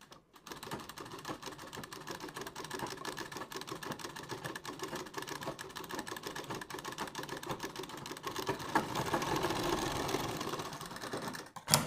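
A sewing machine stitches gathered fabric for a puff sleeve, running in a fast, even mechanical chatter for about eleven seconds before stopping, close but fairly soft.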